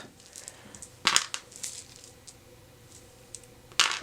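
Playing cards shuffled for the Snowdonia board game, heard as soft riffling rustles with two sharp, close bursts of card snaps, quiet between them.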